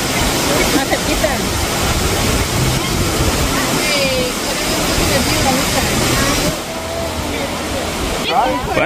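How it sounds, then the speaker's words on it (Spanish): Roaring waterfall in Oregon, a steady broadband rush of falling water filling the scene from start to finish, fairly loud and close, with faint voices now and then beneath the roar. "Ahí miran lo hermoso que luce la cascada."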